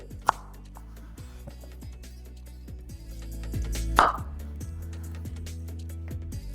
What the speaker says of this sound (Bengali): আলুটাকে কাটার জন্য আপনাদের এইভাবে প্রথমে স্লাইস করে নিতে হবে